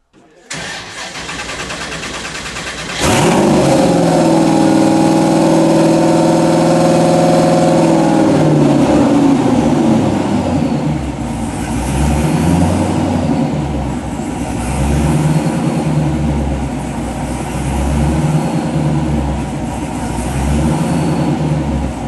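A supercharged Gen5 LT L83 V8 in a VW Thing on a dyno cranks and fires after about three seconds, then runs loud and steady with a rough, lumpy idle and small rev swells throughout.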